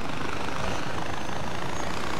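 A helicopter in the video game Far Cry 4 gives a loud, steady rotor and engine roar filling the clip without a break.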